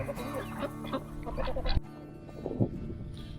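Chickens clucking and murmuring nearby, a few short throaty calls overlapping, with a soft bump partway through.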